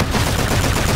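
An energy assault rifle fires in a shooter video game, producing a dense, loud burst of rapid automatic gunfire that fills the whole second without pause.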